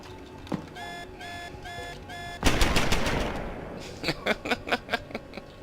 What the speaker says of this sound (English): We'll just let the turret take it from here.